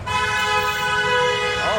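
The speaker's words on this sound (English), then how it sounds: "the guy who honked was the guy that would have been at fault for that accident" A street car horn blares in one long, loud, steady blast, close and dominant, fading at the end.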